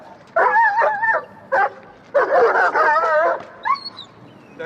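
A muzzled dog on a prong collar barks and whimpers in bursts of yipping, wavering cries, loud and close, with short pauses between outbursts.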